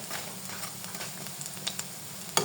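Iftar snacks frying in hot oil for Ramadan in a home kitchen: a soft, low sizzle with light stirring and scattered pops, ending in one sharper crackle.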